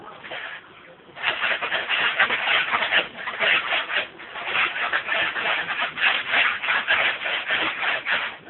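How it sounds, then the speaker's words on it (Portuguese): Sandpaper scrubs a small engine cylinder head on a child's toy-mechanic bench, a steady close rasping rub with rhythmic strokes running continuously after a brief quieter start. "Lixa agora o cabeçote pra papai ver,"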